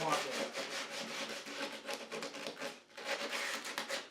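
Sandpaper scrapes rhythmically back and forth across a sharp wooden door edge in quick, close strokes, rounding it, with a brief pause before the rubbing resumes.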